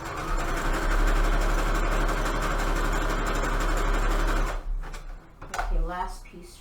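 A sewing machine runs steadily while stitching fabric strips onto a Christmas junk journal cover, a continuous close mechanical hum that stops near the end, followed by soft handling noises.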